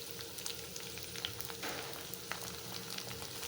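Baby corn Manchurian frying in a pan, a soft continuous sizzle with faint crackles and occasional light stirring scrapes, heard close and without speech.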